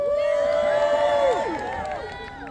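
A crowd cheering for Arundel at an Easter medieval festival at Arundel Castle, a sustained roar of many voices with rising and falling shouts and whoops, loud and continuous.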